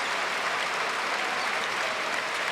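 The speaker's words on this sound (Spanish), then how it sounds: "Aplaude o público do Saro esforzo de Nankivil" Basketball arena crowd applauding during a professional league game, constant dense clapping that holds at an even level throughout.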